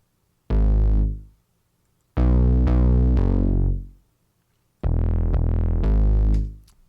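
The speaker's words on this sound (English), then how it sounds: "for the bass, I've used a mini Moog driver" Minimoog bass synth, heavily compressed and distorted, sounding three long sustained low notes separated by silences, loud and alone.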